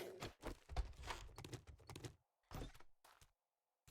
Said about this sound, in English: The door next to me is glitching out.